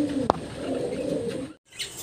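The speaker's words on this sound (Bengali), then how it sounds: "চমৎকার বিদেশি ঘুঘু পাখি" Foreign doves cooing softly in a low, murmuring rhythm at close range, with a brief sharp click partway through and a short pause near the end.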